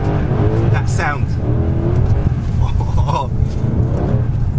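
Powerful sports car engine, either a Mercedes C63 AMG or BMW M3, rumbles loud and close with a deep steady drone and rising revs, while a voice talks over it throughout.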